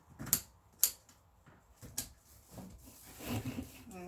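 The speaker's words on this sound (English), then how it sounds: "I'm just going to use my scissors." Scissors cut through wreath material for a snowman wreath, making a few sharp, close snips spaced out at irregular intervals, followed by soft rustling and handling noise.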